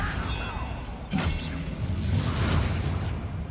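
A Bombarda blast spell explodes in Hogwarts Legacy during a fight, with a sharp burst near one second followed by a rumbling, crackling boom over game music and effects.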